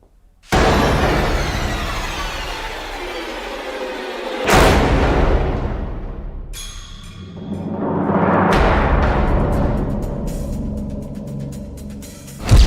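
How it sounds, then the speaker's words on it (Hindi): A house is blasted apart by security forces in Kashmir: a massive blast erupts with a deep booming roar, followed by a long rumbling wash of debris and crackling, then a second surge of rumble. "सुरक्षा बल के जवान पीछे हटे और ब्लास्ट हो गया।"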